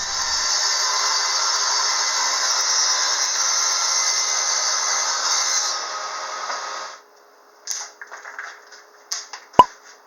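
A steady, continuous saw cuts through plywood for several seconds, then stops, followed by a few scattered clatters and knocks.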